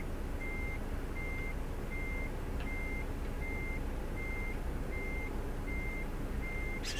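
Truck reversing alarm in Euro Truck Simulator 2 beeps in an even, steady rhythm, about ten short tones, at a moderate level over a low rumbling engine idle.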